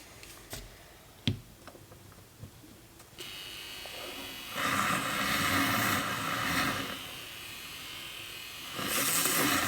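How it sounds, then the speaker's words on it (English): A small handheld battery milk frother whips plant-based half and half, starting after a few soft clicks and handling noises with a steady buzzing whir that grows louder and brighter as the foam builds, running for several seconds up close. "So this thing is pretty nice if you're looking for a little handheld frother"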